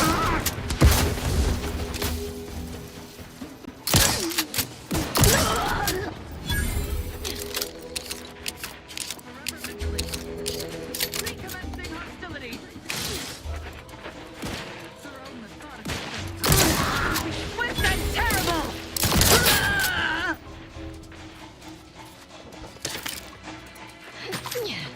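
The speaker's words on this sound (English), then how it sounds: "God damn, this shotgun is amazing." Shotgun blasts in The Outer Worlds 2 shooter game, loud booming shots fired in irregular bursts amid combat clatter, impacts and crashes, with voices talking at points between the volleys.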